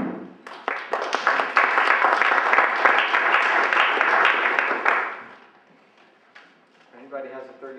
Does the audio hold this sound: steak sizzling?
no